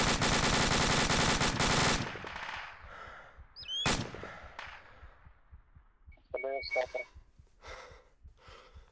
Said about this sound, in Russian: ПКМ, по-моему, работает с горы